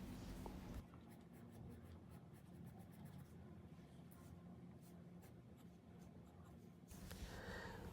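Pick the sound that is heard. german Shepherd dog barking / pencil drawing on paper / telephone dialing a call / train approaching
pencil drawing on paper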